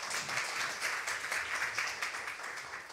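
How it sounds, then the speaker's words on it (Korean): Congratulatory applause from the audience at the 2022 Korea Green Architecture awards ceremony, a faint, steady patter of many hands clapping, distant and even throughout. "그럼 다시 한번 큰 축하의 박수 부탁드리겠습니다."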